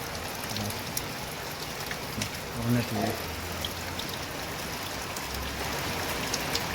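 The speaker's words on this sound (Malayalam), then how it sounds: "ഇനിയും മഴയും തോർന്നിട്ടൊന്നുമില്ല" Steady rain falls during Cyclone Montha under heavy overcast skies, a constant wash of patter on surfaces, with a brief low murmur and a muffled thump partway through.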